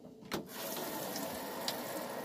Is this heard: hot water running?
yes